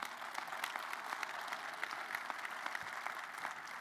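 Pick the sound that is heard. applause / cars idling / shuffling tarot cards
applause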